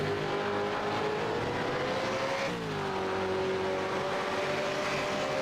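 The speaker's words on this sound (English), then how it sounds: "Maybe he'll get that car fired up." A V8 Supercar, Ford FG Falcon or Holden VF Commodore, runs in pit lane at a charity race at Sandown, its engine note holding steady, dipping briefly and settling again, loud and continuous with crowd noise and no talk.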